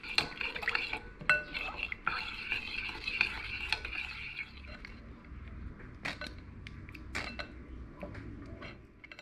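A spoon stirs food in a pot during home cooking, scraping and clinking steadily against the sides with a few sharper knocks, close and fairly quiet.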